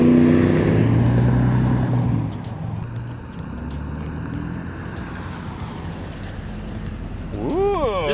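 A 1987 Chevrolet Camaro IROC-Z accelerating past, a loud engine roar that fades as it goes by, followed by quieter road noise and a voice at the end.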